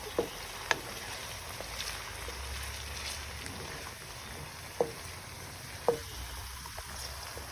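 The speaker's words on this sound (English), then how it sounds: "Now I'm gonna put ginger garlic on it. And mix it nicely." Ginger garlic paste is stirred into browned onions in a karahi pan for koyla karahi, producing a low, faint steady sizzle with a few isolated spoon taps against the pan.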